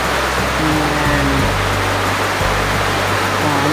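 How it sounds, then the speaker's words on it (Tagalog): Heavy rain pours outside a tiny house, a loud, dense, constant hiss with low tonal hum underneath and no speech. "Ang lakas po ng ulan."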